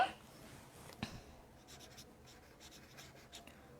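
Pen writing on paper during a chemistry lesson gives soft, faint scratching strokes in short irregular bursts, with a couple of light taps, close and quiet with no talk.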